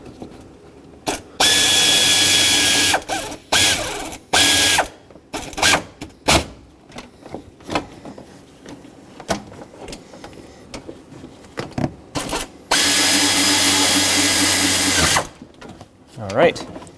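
A powered ratchet spins belt tensioner bolts snug on a 2007-2014 Chevrolet Silverado 2500 in two loud, sustained whirring bursts, with short clicks and tool handling between them and someone speaking.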